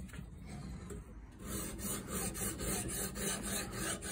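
A knife blade rubs with repeated rhythmic gritty strokes across a 400/1200 grit combination whetstone, heard close, with a quieter scraping start before steadier back-and-forth passes.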